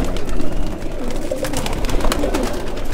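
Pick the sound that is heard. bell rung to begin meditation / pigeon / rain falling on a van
pigeon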